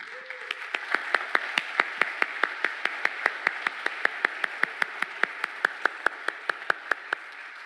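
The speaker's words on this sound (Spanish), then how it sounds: "creo que merecen un aplauso de reconocimiento y de ánimo y de gratitud" An audience at a Christian music event applauds the band, sharp separate claps in a steady, fairly quick rhythm, moderately close and sparse rather than a dense ovation, with faint murmuring underneath.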